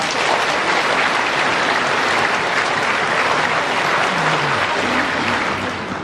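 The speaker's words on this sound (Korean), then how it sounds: "이분들에게도 큰 박수 부탁드립니다" Large audience applause at a Catholic priest and deacon ordination celebration in Jeju, a loud, dense, continuous wash of clapping filling the hall from start to finish.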